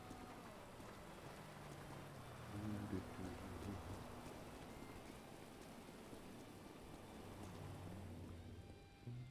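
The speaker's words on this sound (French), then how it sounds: "il a bien semblé entendre le bruit de la pluie" Rain patters steadily in a video game roleplay, a soft continuous hiss of drops on surfaces with a low rumble, while faint voices murmur beneath.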